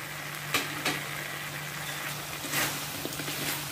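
Crispy chicken with ginger and garlic sizzles in a pan while being stirred, a steady frying hiss broken by several sharp scraping clatters of the utensil, with a faint low hum beneath.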